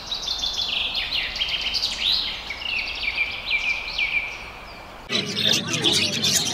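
Native wild birds rescued from a market chirp in a dense, busy chorus of high, fluttering tweets close by, then cut off abruptly into a different, noisier background.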